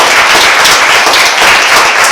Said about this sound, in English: Give the company a round of applause.